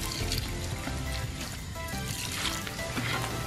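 Water pours steadily into a concrete mix at an outdoor horse-barn build, a continuous close splashing gush lasting the whole moment.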